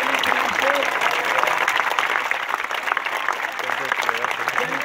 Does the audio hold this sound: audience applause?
yes